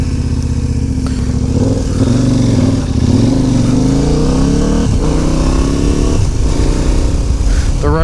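KTM 1290 Adventure motorcycle ridden on brand-new Bridgestone AT41 tyres over greasy roads, the big engine droning loud and steady, with rising and falling pitch as the rider rolls the throttle through gear changes.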